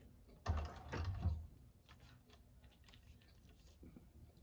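A 1341 cylinder arm sewing machine stitching a bag, a short burst of rapid mechanical stitching for about a second, then quiet faint clicks and handling noises, no voices.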